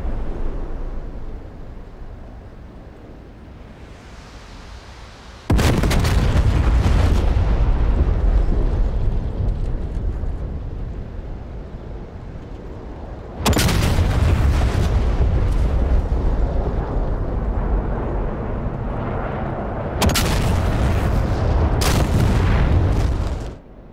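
Secondary explosions rumble at a bombed storage site in the combat flight game DCS World: three heavy, sustained blasts of roaring boom and debris, each lasting several seconds, loud and close, separated by a quieter lingering rumble.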